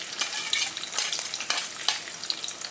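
Garlic and finely chopped onion fry in a pan with a constant bright sizzle, broken by quick scraping stirs of a spoon at a regular pace, close by and with no voices.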